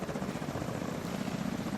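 A helicopter in the video game The Division holds a steady, throbbing rotor drone with a low engine hum, moderately loud and continuous throughout, with no speech.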